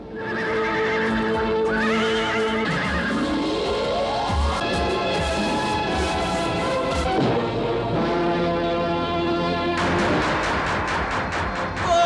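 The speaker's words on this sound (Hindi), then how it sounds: "ये घोड़े आगे क्यों नहीं बढ़ रहे?" Horses whinny loudly several times with rising and falling cries, while hooves clip-clop steadily beneath them, close by and without talk, in a dramatic period-series scene.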